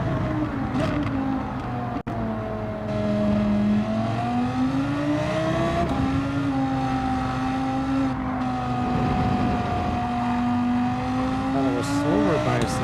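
Audi R8 race car engine in a racing video game, a steady sustained drone whose pitch rises and falls through gear changes across a lap, loud and continuous with faint talk beneath.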